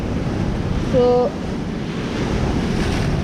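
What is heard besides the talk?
ocean waves on the shore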